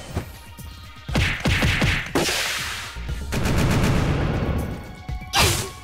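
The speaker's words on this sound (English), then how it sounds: "Random explosion effects." Explosion effects in the Hyperdevotion Noire video game fire off as loud, sharp bursts, first one by one and then in a dense, rattling run of blasts, followed by a final crash.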